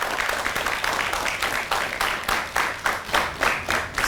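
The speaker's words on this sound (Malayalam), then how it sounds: "ഒന്ന് കൈയടിച്ചു കൊടുത്ത് ഈ കൺമണിക്ക് മുമ്പിൽ." Studio audience on a Malayalam chat show clapping for a guest, a loud steady burst of applause from many hands with a rhythmic, pulsing quality toward the end.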